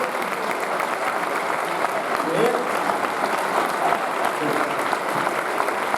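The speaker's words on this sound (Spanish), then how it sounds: "Démosle un fuerte aplauso a la casa que nos recibe." An audience claps steadily in sustained applause, a dense even patter of many hands throughout.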